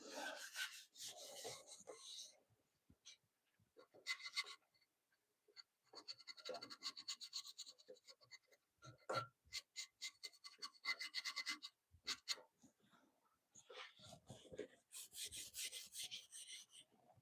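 Steel wool rubbed over a wooden bunk bed board in a workshop, heard as bursts of dry, scratchy rasping strokes separated by short pauses, close and fairly quiet with no talking.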